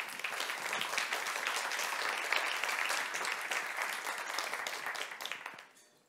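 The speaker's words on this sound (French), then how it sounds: "On les applaudit les 3." An audience applauds three finalists at a tech awards presentation, dense steady clapping from a large crowd that holds for several seconds and then fades out quickly at the end.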